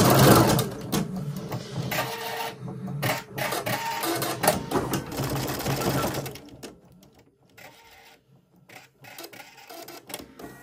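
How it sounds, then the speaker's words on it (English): A Husqvarna Designer Epic 3 embroidery machine stitching French knots, a fast mechanical needle chatter that runs busily at first, then thins into shorter bursts and pauses toward the end. "We're now stitching up the middles of the flowers. Simple French knots going into the centre of these"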